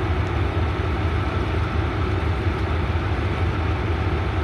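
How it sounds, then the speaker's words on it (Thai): Rapid train 171, hauled by Hitachi locomotive 4514, departs Bangkok railway station with a steady, loud, continuous rumble of engine and rolling wagons and no distinct pauses. "กำลังจะออกจากสถานีรถไฟกรุงเทพนะฮะ12:30"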